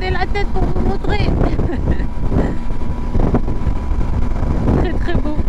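Strong crosswind buffeting a rider on a Tracer 9 GT motorcycle, a loud broadband roar of wind on the microphone blended with engine and road noise, steady throughout with some gusty surges, and a voice talking over it.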